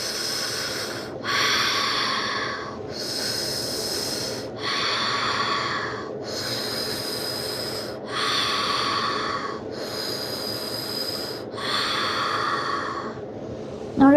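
Slow, deliberate breaths taken in and out through the mouth during a relaxation exercise, about seven loud breathy whooshes, each lasting around a second, evenly spaced, heard close and alone over a quiet background hum.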